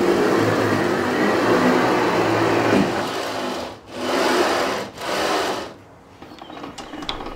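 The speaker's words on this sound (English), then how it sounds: "Testing out the movement of this multi-axis sled for the first time is oddly satisfying." A multi-axis slab-flattening router sled slides along its rails with a steady mechanical whir, then breaks into two short back-and-forth passes before stopping, leaving quieter clicks behind.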